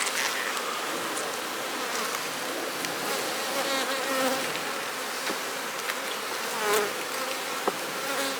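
Honey bees buzz steadily at an opened hive during colony equalizing, where drone comb holds newly emerging bees; a dense, continuous insect drone runs throughout with a few brief handling noises and no talk.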